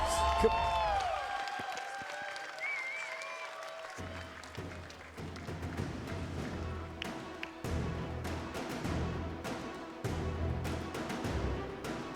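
A large arena crowd at a Call of Duty esports championship final claps and cheers in sustained waves, with scattered sharp claps, bangs and whistles rising and falling over a loud, reverberant hall.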